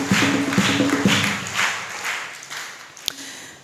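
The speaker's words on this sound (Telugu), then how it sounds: "గట్టిగా చప్పట్లు కొడతాం." A church congregation claps for mothers on Mother's Day, with a brief burst of applause that fades over a few seconds, followed by a single sharp tap.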